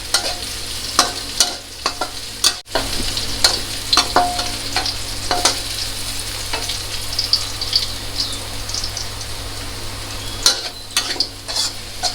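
Garlic and chili sizzle in a wok for a Thai stir-fried snakehead fish with celery, a constant frying hiss broken by frequent spatula scrapes and knocks against the pan, close and unaccompanied by speech.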